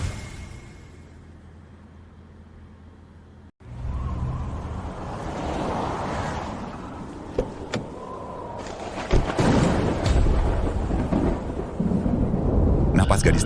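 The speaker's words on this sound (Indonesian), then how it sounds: "Di tengah badai salju ini kenapa ada guntur dan kilat?" Thunder in the middle of a snowstorm: after a quiet stretch, a sudden loud crack opens into a heavy rolling rumble that keeps building and sustains to the end, with sharp bursts along the way.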